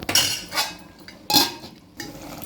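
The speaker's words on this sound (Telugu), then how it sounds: "మూత పెట్టుకోవాలి." A lid goes onto a pot of mutton gravy curry with a few close metallic clanks and scrapes, spaced unevenly over a couple of seconds, with no voices.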